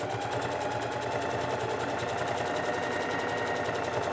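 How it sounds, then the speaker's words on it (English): Close and loud, a sewing machine hums continuously while running a zigzag stitch along the raw edges of a hoodie cuff seam, its fast even needle pulse unbroken to the end. "We're actually just going to do a zigzag stitch or a serging stitch to clean up these raw edges."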